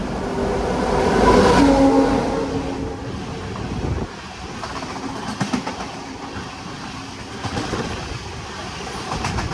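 A train at Secunderabad railway station, its rolling rumble swelling and easing with rhythmic clickety-clack of wagons and wind noise, loud and close.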